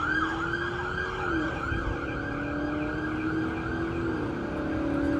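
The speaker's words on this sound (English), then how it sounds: "Sound like a damn police chase" Several wailing police sirens overlap continuously over steady traffic rumble, rising and falling with no talking.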